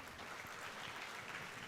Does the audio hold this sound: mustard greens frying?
no